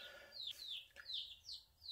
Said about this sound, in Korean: 병아리 소리 들리죠?